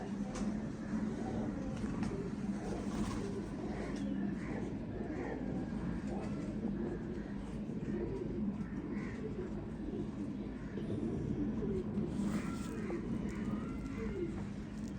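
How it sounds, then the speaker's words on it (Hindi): Low, murmuring coos from an old pigeon in a loft repeat throughout, blended into a steady, busy background hum with faint other bird calls. "ये पुराना कबूतर है,"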